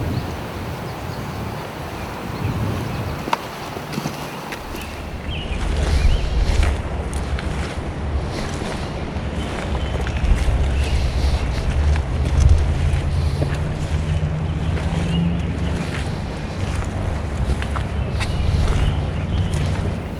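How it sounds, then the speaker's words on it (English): Strong wind buffets the microphone in gusts outdoors during a turkey hunt, with rustling and occasional thumps, roaring louder after the first few seconds and continuing steadily. "It's really windy."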